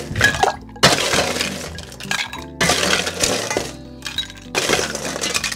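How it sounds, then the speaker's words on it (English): Ice cubes tumble into a cocktail glass while a Golden Dream cocktail is mixed, arriving as three loud, close bursts of clattering, clinking glass-and-ice crashes separated by brief pauses. "All we want to do is add some ice."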